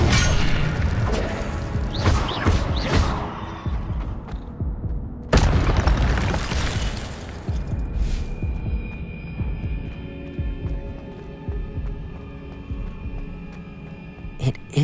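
Incendio fire spell cast in the video game Hogwarts Legacy, a loud booming burst near the start and a second heavy whoosh midway, followed by a crackling, humming magical tail and game ambience.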